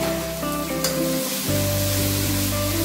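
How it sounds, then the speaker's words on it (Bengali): Tomato paste fries with spices in a pan for a green-pea dish, making a loud, constant sizzling hiss over a steady mechanical hum. "এবার আমি এর মধ্যে দিয়ে দিচ্ছি 2 চামচের একটু বেশি টমেটো বাটা।"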